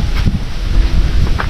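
Wind blows outdoors in strong, uneven gusts that buffet the microphone with a low rumble and rustle, with no talking.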